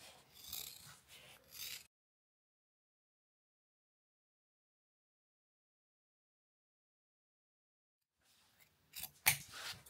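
Scissors cut the corners out of fabric for a zipped box pouch: a burst of close, crisp snipping at the start, a long silence, then more cutting near the end.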